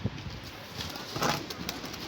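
Released pigeons flap their wings in brief, soft bursts with a faint flutter against a quiet outdoor background.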